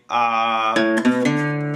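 An acoustic guitar bass lick, three plucked low notes in quick succession, each ringing with rich overtones, close and clear with no voice over it.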